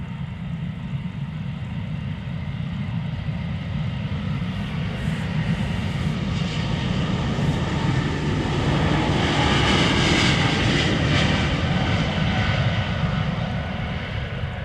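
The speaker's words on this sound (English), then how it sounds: "Again, these are such quiet airplanes." A Swiss Airbus A220-300 jet takes off at Amsterdam Schiphol, its engines a steady, fairly quiet roar that builds and swells toward the middle before easing slightly, with no talking.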